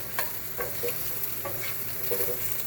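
Pork and beans are stirred around a hot non-stick pan, with a continuous sizzle broken by repeated scraping and stirring strokes, fairly close and with no talking.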